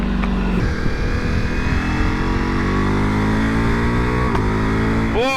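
2021 Ducati Multistrada V4S motorcycle accelerating hard, its V4 exhaust rising in a loud, continuous rasping roar as revs climb, with a sharp upshift near the end, heard close with no talking.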